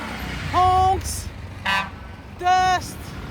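Car horns honking in Egyptian road traffic among trucks and cars, three separate honks of under half a second each, fairly close and loud over steady road rumble.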